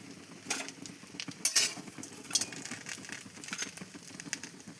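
Cabbage fritters frying in mustard oil, a busy continuous sizzle with crackling pops and occasional clinks of a utensil, close and moderately loud with no talking.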